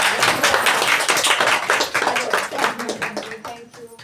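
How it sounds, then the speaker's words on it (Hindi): Hands clap loudly and rapidly at a cosmetics and skin care training session for the woman trainer, a dense burst that thins out toward the end, with voices over it. "मैम के लिए एक बार जोरदार ताली"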